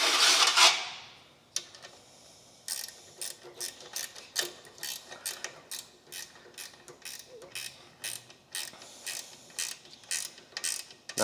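A ratchet clicks in short, quick bursts while a bolt is tightened down during repairs on a wheelie horse, close and fairly quiet, with brief pauses between strokes and no talking.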